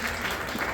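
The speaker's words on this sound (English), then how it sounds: "Clap it up if you love New Orleans." Brief burst of comedy club audience applause at a winery stand-up show, a steady wash of clapping heard alone, fairly close and moderately loud.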